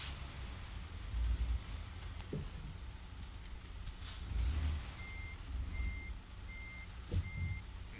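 A truck in an online driving game manoeuvres into a loading area, with a low engine rumble, occasional air-brake hisses and a regular reversing beeper pulsing several times in the latter half, no talking.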